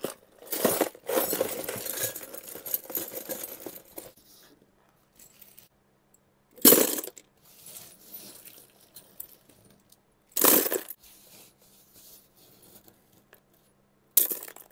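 Metal screws and small parts rattle and clink as a hand rummages through them during a Bigsby vibrato install on a guitar. Several short, close bursts of jangling are separated by quiet pauses, with no talking.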